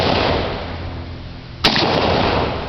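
One loud, sharp gunshot cracks out at an outdoor shooting range, ringing over a steady windy rush, with no talk.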